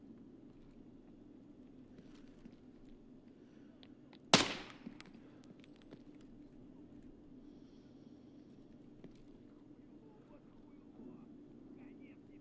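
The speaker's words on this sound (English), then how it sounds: "Who are they shooting at there?" Single sharp gunshot in the shooter game Escape From Tarkov, fairly close and loud, with a brief ringing tail over a steady low ambient hum, followed by faint distant activity.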